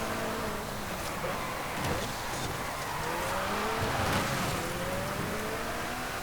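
Ferrari race cars in Forza Horizon 5 drone steadily at full speed, with engine tones rising and falling as they shift and intermittent tire squeals over a constant, dense roar.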